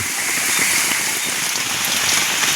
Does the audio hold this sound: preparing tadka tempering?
no